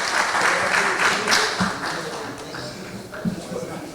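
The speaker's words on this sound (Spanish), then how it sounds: "con este aplauso lo despedimos al ingeniero Francisco Sagasti" An audience at a book presentation applauds a departing guest, engineer Francisco Sagasti, with steady sustained clapping throughout, a voice faintly present underneath.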